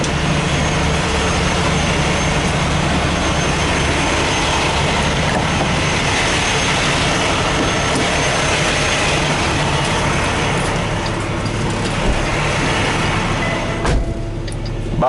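A semi truck pulls away after dropping its trailer at a Kraft yard, giving a steady loud diesel engine rumble that stays continuous and close for the whole stretch before a brief clunk near the end.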